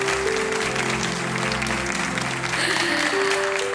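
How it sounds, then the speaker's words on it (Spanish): Studio audience of an afternoon television show applauding steadily throughout, a dense continuous wash of clapping with a low musical or tonal bed underneath. "el público rompe a aplaudir"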